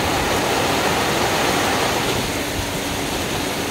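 Steady, dense rush of rainwater runoff flowing loudly and continuously after heavy rain from Typhoon Noru, a broad hiss like a stream, with no voices.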